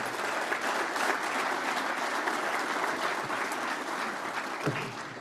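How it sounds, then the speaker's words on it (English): Sustained audience applause at the Saskatchewan Ag Summit, steady dense clapping throughout with no talk, easing slightly near the end. "Let's give her another round of applause."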